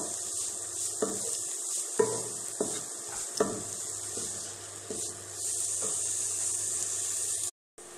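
Onions are stirred in a pan over the heat until translucent, as a wooden spoon scrapes and rubs against it in repeated strokes over a gentle, steady sizzle, close by, before a brief cut to silence.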